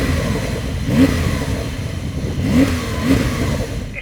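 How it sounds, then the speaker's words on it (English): A Porsche 911 Turbo S engine at a drag race runs loud and steady, with two brief swells of revving rising above the continuous roar. "Let's have a listen to your Porsche."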